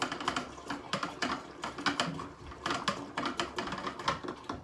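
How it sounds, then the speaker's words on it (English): Brewing mix being whisked vigorously inside an open Pinter home brewing vessel, a close rapid rattling and clicking in uneven bursts, no talking. "as where I can add tons more in just by whisking this shit up."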